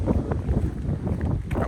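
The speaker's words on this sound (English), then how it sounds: "It's a little windy." Wind gusts buffet the microphone during an outdoor walk from Cabanas de Tavira toward Tavira, Portugal, a low rumbling blustery noise that fluctuates in short bursts, with no talking.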